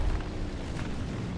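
A bomb explodes in a War Thunder ground battle, a heavy low rumbling boom that swells briefly and rolls on without a sharp attack.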